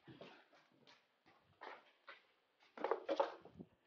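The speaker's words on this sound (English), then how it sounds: "I gotta let my dog out because he's getting cranky with me." A dog whines in short, close, high-pitched bursts, with the whimpers growing more insistent toward the end.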